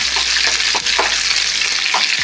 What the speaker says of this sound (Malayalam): നന്നായിട്ട് ഫ്രൈ ആവട്ടെ